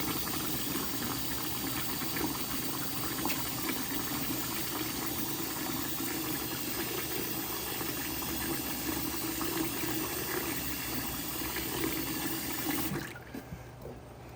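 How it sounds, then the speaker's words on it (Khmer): Cold water runs from a tap in a steady, fairly loud rushing stream for about thirteen seconds, then cuts off abruptly, leaving a quieter room. "នេះក៏ដល់ខ្ញុំបើកទឹកត្រជាក់ទៅ"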